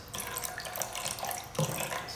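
Apple cider vinegar from a fresh bottle is splashed into a glass, giving a continuous bright pouring and splashing wash with a brief thicker burst near the end.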